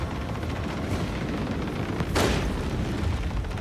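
Enemy ship firing shots at the player's vessel in the Rogue Trader video game, a single muffled burst standing out over a steady rumbling background, fairly loud and alone without talk.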